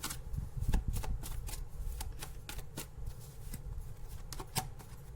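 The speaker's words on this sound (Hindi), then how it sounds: "इसीलिए मैं और 2 कार्ड निकालूंगी" Tarot cards being shuffled and drawn by hand: a close, steady run of crisp riffling snaps and papery clicks with no voices.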